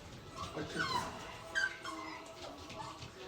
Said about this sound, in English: He's trying to keep all the puppies quiet right now.